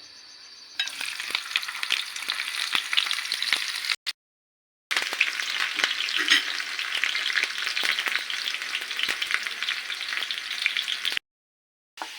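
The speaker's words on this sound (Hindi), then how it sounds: "अब इसके अंदर मैं अनियन ऐड करूँगी।" Onions sizzle and crackle steadily as they fry in mustard oil for a lentil dish, a loud close-up hiss with two short cuts to silence and no talk.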